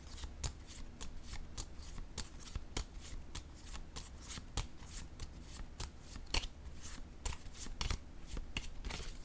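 Tarot cards being shuffled close by in a fast, even run of crisp riffling snaps, repeated steadily for several seconds with no talk.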